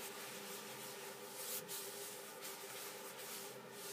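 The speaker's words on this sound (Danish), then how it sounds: "Den pudser man godt ind i vasken og skærer den rundt om." A cloth rubs polish into a solid granite sink in steady, continuous strokes, a close, even scrubbing hiss with slight swells and no voices.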